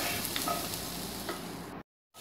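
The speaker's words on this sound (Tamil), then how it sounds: "இப்போ இதெல்லாம் கொஞ்சம் எண்ணெய் சேர்த்து வதக்கிட்டு நம்ம வந்து அரைச்சிக்க போகிறோம்" Cashew nuts and cardamom sizzle softly in hot oil in a pan with a steady, faint frying hiss that stops abruptly near the end.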